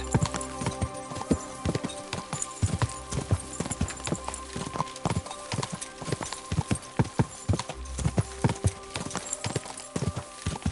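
A horse gallops in the video game Kingdom Come: Deliverance II, its hooves clip-clopping in a fast, steady rhythm of loud, close impacts throughout, with a brief whinny-like tone mixed in.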